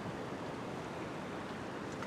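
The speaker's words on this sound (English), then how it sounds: "I can see if any big waves are coming, they're hitting the point right out the back" Ocean waves break on rocks after a big swell, giving a steady, dense wash of surf and spray noise that stays loud and unbroken.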